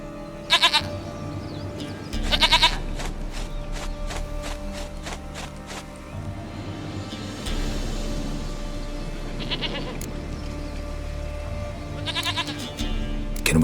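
A goat in The Witcher 3 bleats in several short sharp bursts spaced across the stretch, over a steady low background of ambient game sound.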